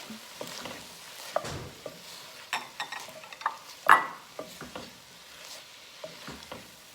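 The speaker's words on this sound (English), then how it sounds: "And then I'm going to add in the tomato paste and the garlic." Tomato paste and garlic stirred into a pot of chili, with soft sizzling and scattered scraping clicks of the spoon at an irregular pace, close by and fairly quiet, no talking.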